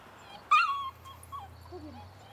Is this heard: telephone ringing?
no